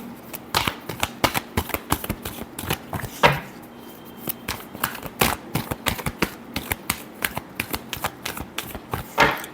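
Tarot cards are shuffled by hand at close range, a brisk series of papery flicks and snaps repeated in irregular bursts, alone and fairly loud throughout.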